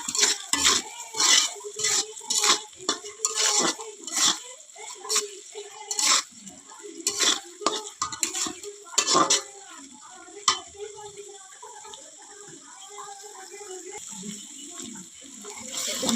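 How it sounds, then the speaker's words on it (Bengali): Bottle gourd mash with salt is stirred in a pan, giving irregular scraping and clinking of a utensil against metal over a faint sizzle, with bursts loudest early and quieter later. "সুন্দর করে নেড়ে নেব।"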